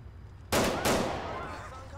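Gunfire in GTA IV with the LCPDFR police mod, first-person patrol: two sharp, loud broadband shots about a third of a second apart, each trailing into a ringing decay over low background noise.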